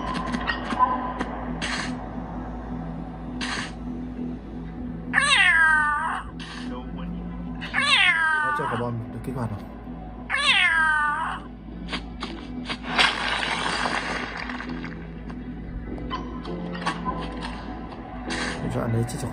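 A cat-shaped clock in the video game Ice Scream lets out three drawn-out meows in a row, with mechanical ticking and clicking around them and game background noise throughout.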